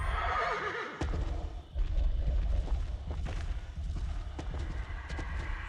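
A horse whinnies loudly near the start, followed by rumbling and scattered thuds and hoofbeats in a noisy scene from the horror video game DreadOut.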